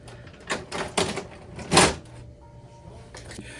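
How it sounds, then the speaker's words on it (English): The cartridge access door on the front of an HP Color LaserJet Pro MFP M479 printer opens after its button is pressed, giving a few close plastic clicks and then a louder clunk as the panel swings open. "open the cartridge access door from the front of the printer by pressing this button"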